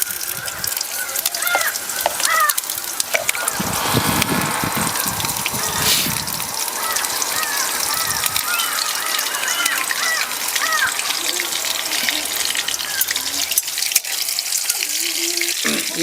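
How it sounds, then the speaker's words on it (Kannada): Green chillies dropped into hot oil for chicken liver fry, a continuous loud crackling sizzle with splattering close by, while a voice speaks over it. "ಸೊ ಹಸಿಮೆಣಸಿನ್ಕಾಯಿ ಹಾಕೋಣ."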